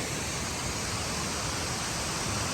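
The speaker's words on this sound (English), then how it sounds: "Spald River Falls is right off the road here." Spald River Falls beside a road rushes in a dense, unbroken roar of falling water, loud and steady throughout with no voices.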